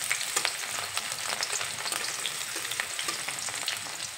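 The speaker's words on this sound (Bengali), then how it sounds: "এখানে এই পেঁয়াজ হালকা ব্রাউন কালার করে ভেজে নেব।" Chopped onions fry in hot oil in a pan, giving a steady bright sizzle with crackles and soft stirring scrapes throughout, close by and with no voices.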